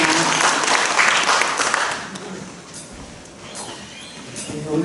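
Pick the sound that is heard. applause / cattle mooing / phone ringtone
applause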